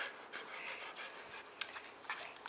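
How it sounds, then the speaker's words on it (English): Dog panting on a street in Mexico, with quick, steady breathy huffs close to the microphone and a few brief sniffs or whimpers, quiet and without voices. "It's a dog!"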